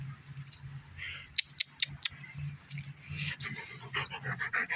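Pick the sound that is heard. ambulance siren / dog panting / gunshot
dog panting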